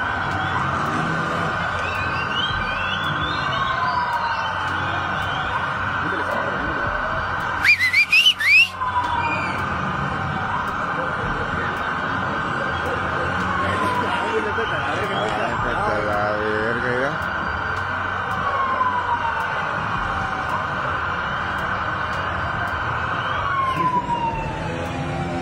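A police siren wails steadily at a distance in Chimalhuacán, Mexico, rising and falling over a low background hum, with a brief burst of louder noise partway through.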